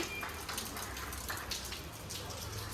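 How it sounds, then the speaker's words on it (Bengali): Soft, steady patter of light rain with scattered drops tapping a surface, continuous and low-level with no one speaking. "তো বৃষ্টি এখনও টিপটিপ করে পড়ছে"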